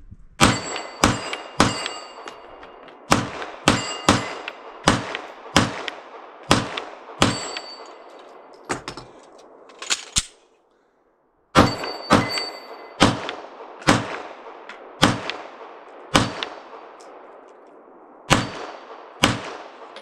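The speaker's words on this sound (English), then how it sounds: "You can turn around and see I'm hitting that 4-inch steel." Repeated pistol shots from a Sig P320 XCarry ring off a 4-inch steel target, each sharp crack followed by a metallic clang, fired in quick rhythmic strings with a brief pause midway, loud and close.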